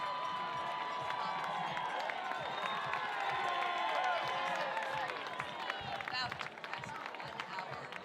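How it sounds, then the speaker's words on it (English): Thousands of spectators cheer and clap for runners finishing the women's Mount Marathon race in Seward, a steady roar of shouts and applause with a commentator speaking over it. "getting a lot of cheers from the crowd"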